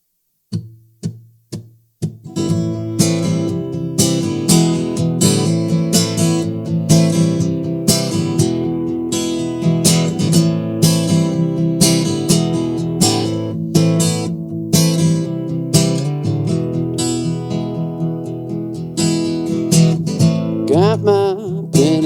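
A song plays for over twenty seconds, opening with a few sparse struck notes before a full, dense band arrangement comes in and continues steadily at high volume.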